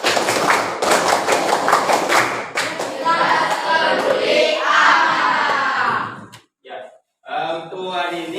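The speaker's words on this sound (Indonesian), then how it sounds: "Satu kali tepuk IPA." A classroom of students does a patterned group clap for a science lesson cheer: several quick rhythmic bursts of close clapping, then loud chanting voices from the class with a few more claps toward the end.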